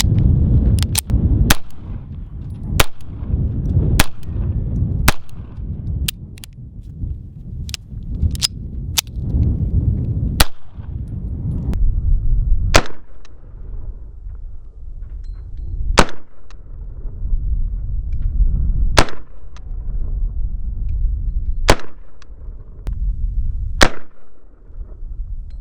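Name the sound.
gunshots from an unreliable gun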